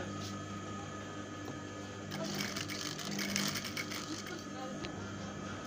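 Sewing machine stitching a kameez band collar, a soft, slow mechanical whir at a distance, with faint low room noise throughout.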